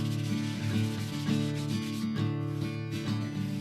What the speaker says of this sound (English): this is a very well-worn piece of 180 grit sandpaper, and just take it and kind of give it a once over